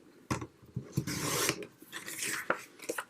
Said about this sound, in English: You can trim off some of that green there.